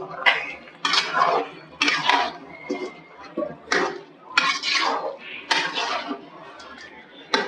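Chicken being mixed in a cooking pot in a bachelor room kitchen, with repeated loud scraping clatters of a ladle against metal in uneven bursts, under bits of talk.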